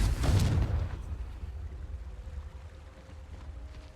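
A Confringo explosion spell in Hogwarts Legacy, one sharp low blast at the start that decays into a long rumbling tail, moderately loud and fading.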